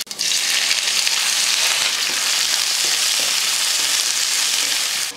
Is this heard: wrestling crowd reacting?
no